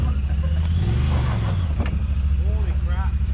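A Honda Talon 1000X UTV engine revs and accelerates up close, a steady loud drone with a rising pitch sweep, while people talk over it.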